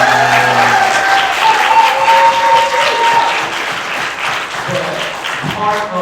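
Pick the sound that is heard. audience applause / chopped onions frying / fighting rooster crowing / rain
audience applause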